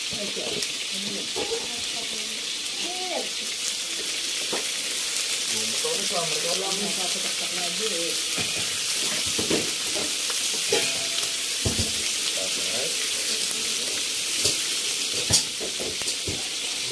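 White onion sautéed in oil for sweet and sour lapu-lapu, giving a loud, steady, hissing sizzle that fills the whole stretch, with occasional utensil taps and faint speech underneath.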